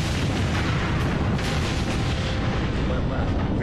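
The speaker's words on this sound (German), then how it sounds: "Als die extreme Hitze des Infernos eine Tankstelle erreicht, entzündet sich das Benzin und das Gebäude explodiert." A petrol station building on Montserrat explodes as a volcanic inferno ignites its fuel, a dense continuous roaring blast rumbling throughout, with a voice over it.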